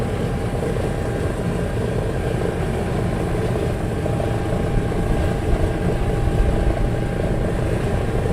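Sky Master aircraft piston engine running steadily at an outdoor open day, a continuous loud low rumbling drone throughout with no break or change in pitch.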